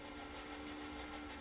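Train running along a line in the railway strategy game Railway Empire, a steady low rumble with a faint whistle-like tone held throughout at moderate loudness, no talk.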